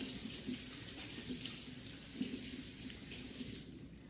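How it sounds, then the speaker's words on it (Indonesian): Water from a tap runs steadily into a sink as hands are wetted for handwashing, a continuous even splashing hiss throughout, close and moderately quiet, with no talking. "nyalakan keran lalu basahi tangan hingga berus permukaan"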